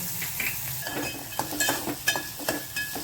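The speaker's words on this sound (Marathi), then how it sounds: "त्यानंतर त्यामध्ये एक कांदा बारीक चिरलेला तो चांगला परतून घ्यायचा" Finely chopped onion and curry leaves sauté in a pan over low heat, a soft crackling sizzle broken by repeated stirring scrapes and clinks, close and moderate in level.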